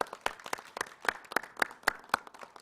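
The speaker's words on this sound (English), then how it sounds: "Let's give them a round of applause" A small crowd at a gathering of Atlanta community leaders claps for police officers, with distinct, fairly quick claps in an uneven rhythm, sparse and moderately quiet rather than a full roar.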